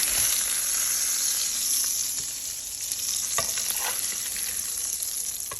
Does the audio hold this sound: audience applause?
no